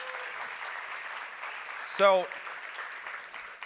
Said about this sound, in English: everybody give them a round of applause for building the damn thing